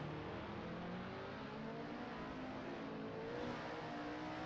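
A Formula Student race car laps a classic circuit, its engine a steady droning whine heard from a distance and holding an even level throughout, with no voices.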